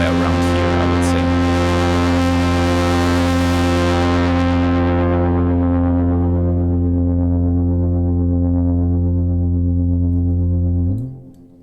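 Moog Subsequent 25 analog synthesizer holding a thick sustained bass chord with distortion, bright at first then darkening as the filter moves, droning loudly and alone before cutting off near the end.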